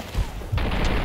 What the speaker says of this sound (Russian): спецэффекты, конечно, при стрельбе